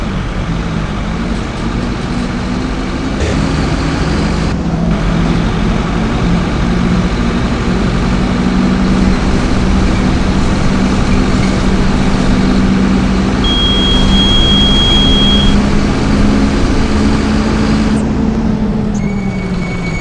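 A Mercedes-Benz OF-1519 bus engine with a Marcopolo Torino 2007 body, idling steadily in a constant low drone with a faint whine above it, loud and near throughout.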